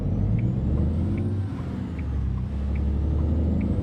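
An International HX520 heavy-haul truck in 8x4 configuration in American Truck Simulator brakes hard, its deep engine rumble steady under a faint hiss of air brakes, continuous and close with no voices.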